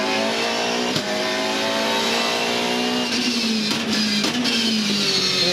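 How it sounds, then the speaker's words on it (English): A 2014 Supercars race car engine at the Winton 400 holds a loud, buzzing high-pitched note, its pitch rising and dipping slightly with a couple of brief blips near the end. "Engine note sounds okay"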